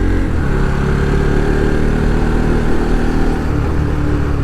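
A motorcycle engine labors steadily uphill on a misty mountain road, its loud, continuous drone close and unbroken, with no voices over it.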